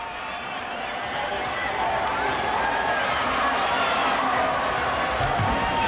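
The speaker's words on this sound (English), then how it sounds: "you can hear the crowd going crazy in the background for Georgia" Arena crowd at the 2001 NCAA Gymnastics Championships cheering loudly for Georgia, a sustained roar filling the space throughout, with a commentator talking over it.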